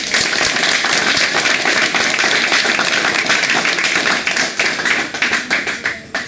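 An audience claps in a lively burst of applause, loud and steady at first before thinning into scattered, fading claps toward the end, with no speech over it.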